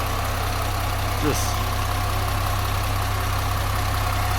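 A vehicle engine idles with a steady, continuous low hum and rattle that stays even throughout, while a voice briefly speaks over it.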